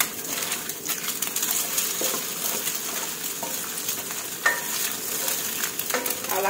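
Eggs fry and get stirred in a pan for a Japanese cucumber stir-fry, a steady broadband sizzle with occasional scraping clinks of the utensil, close and continuous with no talking.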